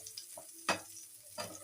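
Bitter gourd and pumpkin fry in a pan: faint sizzling is broken by a few distinct stirring scrapes and clacks, close and quiet.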